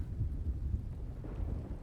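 Thunderstorm with rain in the video game Rising World, a low steady rumble and wash of rain filling the whole short stretch, fairly loud with no talking.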